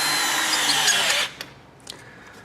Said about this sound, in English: Next thing we're going to do is tighten the hose clamps here.